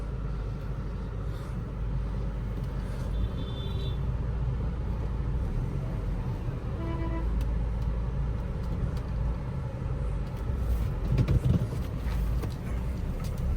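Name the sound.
car engine running after exhaust cutout removal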